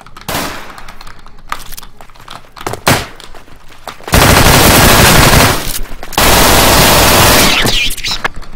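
Loud pistol gunfire in a one-on-one video game match comes in rapid, crackling bursts, with dense sustained volleys that sound close and harsh, separated by brief gaps.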